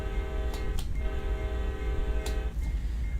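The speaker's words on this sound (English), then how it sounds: "Horn." A steady, droning video game locomotive horn sounds against rumbling engine noise, cut by brief clicks.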